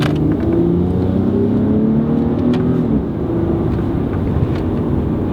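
Dodge Challenger SXT engine revving in first gear, a steady close-up drone that climbs in pitch for about three seconds, then drops back and settles into a lower, rougher hum.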